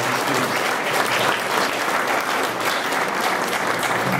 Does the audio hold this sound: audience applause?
yes